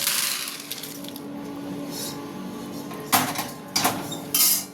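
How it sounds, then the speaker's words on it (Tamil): Roasted urad dal poured onto a plate during homemade ulutham paruppu barfi preparation: three short rattling bursts of dry lentils hitting the plate, close and crisp, the last one longer, over a faint room hiss with no talk. "நம்ம ஒரு தட்டில் கொட்டிக்கலாங்க."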